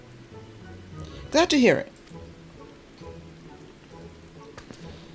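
Steady rain falls in the video game Final Fantasy XIV, a soft continuous hiss heard under a brief burst of a voice.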